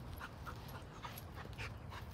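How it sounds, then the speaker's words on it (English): An American pit bull terrier in training pants softly in quick, rhythmic breaths, fairly faint against a low background hum. "here's a dog that's in training, and this is a pit bull."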